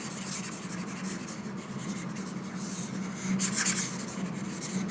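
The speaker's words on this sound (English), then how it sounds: "let me write over here the answer." Pen or marker scratches and rubs across paper or a board as an algebra answer is written out by hand, a close, steady scratching with short strokes and pauses.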